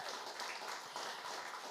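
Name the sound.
townhall audience applause for the DJ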